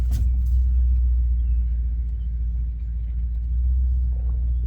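A truck with a trailer being moved in a residential driveway, producing a steady low engine rumble and idling drone that stays close and fairly loud throughout, with no talk.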